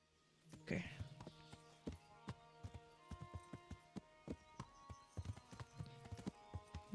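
A horse's hooves clip-clop at a steady walking pace in the medieval video game Kingdom Come: Deliverance, close and distinct, with a brief whinny near the start and faint background sound.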